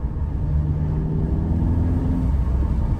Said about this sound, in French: ça fait un petit bruit de turbo là